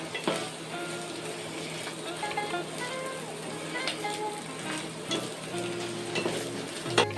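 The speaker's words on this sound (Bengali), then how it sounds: "এই ডিমটা সহ আলুটা দিয়ে আর একটু ভেজে নিতে হবে" Katla fish roe frying with potatoes in a pan crackles and sizzles steadily up close, with stirring scrapes and occasional sharp taps of a utensil against the pan.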